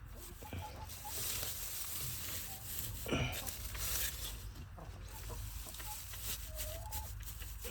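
Chickens clucking steadily close by in a backyard coop during egg collection, with a rooster crowing now and then amid continuous farmyard fowl chatter.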